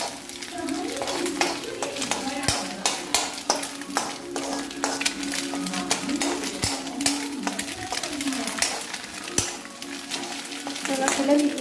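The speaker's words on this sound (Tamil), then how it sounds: "நல்லா கிளறிக்கலாம்" Egg noodles fry in a pan while a utensil stirs them, with steady close sizzling and frequent sharp scrapes and clinks against the pan at an uneven rhythm, and no voices.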